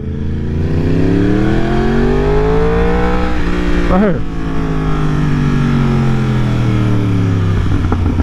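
A 2020 Yamaha R1 fitted with an Austin Racing GP1R exhaust roars loudly and close, its engine pitch rising and falling through revs with a sharp blip midway, while a rider talks briefly over it.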